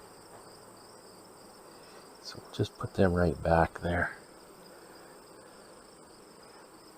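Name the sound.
bees at their nest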